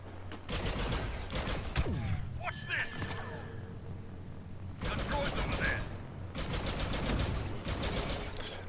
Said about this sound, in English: you can hear, you know, the guns sound great as well. Now, obviously they are laser guns